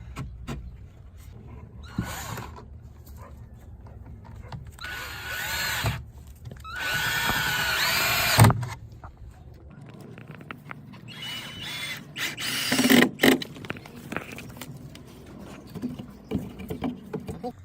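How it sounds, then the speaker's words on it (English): A power drill whirs in several bursts, revving up and stopping as screws drive into wooden 2x4s for an elevated garden bed, with clattering handling noises between runs nearby. "I'm just gonna drill them in here right below that line."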